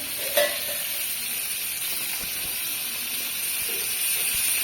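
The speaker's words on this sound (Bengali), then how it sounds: "মাছটা সুন্দর করে ভাজে নিই" Fish fries in spiced masala in a village kitchen, a steady bright sizzling hiss holding evenly at close range, with one faint clink early and no talking.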